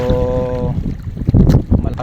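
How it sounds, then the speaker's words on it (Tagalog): Strong waves and wind at sea, heard from a small fishing boat heading home, come as loud gusting, buffeting wind roar and splashing surges after a brief steady tone at the start. "malakas-lakas na po yung alon saka hangin"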